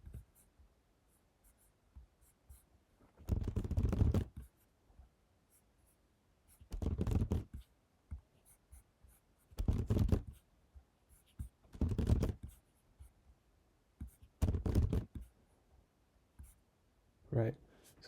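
Fingers type a password on a computer keyboard in five short, dense bursts of rapid clicking separated by quiet pauses, heard close.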